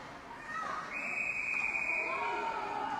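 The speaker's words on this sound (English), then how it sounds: "And a whistle." A referee's whistle shrills in one sustained blast at a girls' ice hockey game in a rink, loud and steady over crowd murmur and play-by-play commentary.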